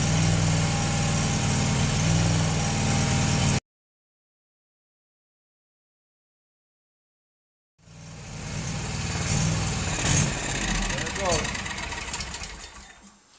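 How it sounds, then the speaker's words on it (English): Zero turn lawn mower engine running rough as it runs out of gas while being fogged, loud and close, cutting out to silence for about four seconds before the engine noise returns and fades. "So it ran out of gas, and I fogged it the whole time while it was running out of gas."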